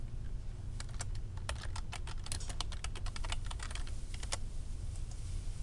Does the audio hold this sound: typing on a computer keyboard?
yes